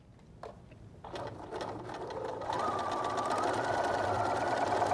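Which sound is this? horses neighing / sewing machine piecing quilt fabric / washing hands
sewing machine piecing quilt fabric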